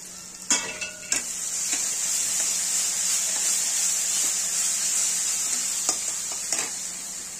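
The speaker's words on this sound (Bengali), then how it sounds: "এখানে ঠিক আমাদের মশলাটা কষানো হয়ে গেছে" Ground chilli, cumin and coriander spices fry in oil with a steady, bright sizzle, while a few sharp spoon knocks against the pan land near the start and again toward the end; close and continuous throughout.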